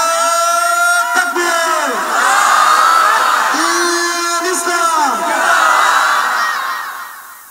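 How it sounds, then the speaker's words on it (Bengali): A large crowd at a religious sermon gathering shouts the takbir in unison. There are two or three long, loud chanted calls, each rising and then trailing off, with one voice leading before the crowd answers. "একটা তাকবীর দেন আওয়াজ করে,"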